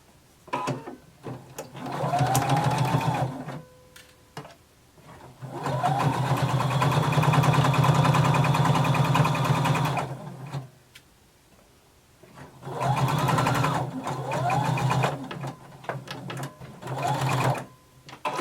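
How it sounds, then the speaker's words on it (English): A sewing machine stitches a 5/8 inch seam in bursts, a steady mechanical whirring hum that runs for a few seconds, stops, then starts again, close and clear, with light clicks between runs and no talk. "we're going to sew across using 5/8 inch seam allowance"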